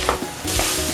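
Button mushrooms sautéed in a pan for a mushroom do pyaza, with spoon scrapes and stirring over a steady close sizzle, no voices.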